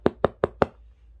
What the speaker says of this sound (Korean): 문을 두드리는 소리가 들렸어요.